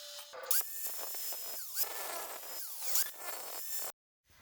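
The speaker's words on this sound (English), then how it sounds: "I ended up using the Dremel tool just because the grinder was too big." A Dremel rotary tool grinds on a 2001–2005 Honda Civic wheel hub during a lug replacement, giving repeated high whining bursts with pitch sweeps as it bites and eases off, then cutting to silence.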